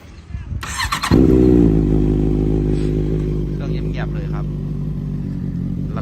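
A 2015 Honda CBR650F sport motorcycle with carbon tank cover cranks briefly, then fires up loud and close and settles into a steady, throbbing idle that runs on without a break.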